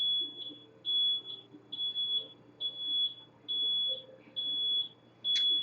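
A truck's reversing beeper sounds in a slow, regular series of about nine clear, steady electronic beeps, with faint background noise between them.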